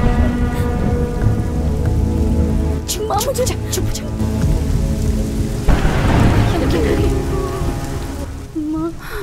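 Heavy rain pours steadily with a deep thunder rumble, while a few voices speak briefly over the storm in a Hindi-dubbed film scene.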